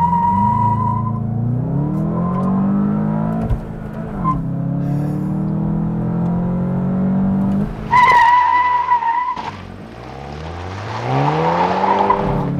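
A 2022 VW Jetta GLI with a 2-liter turbo four-cylinder and manual transmission accelerates hard. The engine revs climb loudly through the gears with brief drops at each shift and a sharp tire chirp midway.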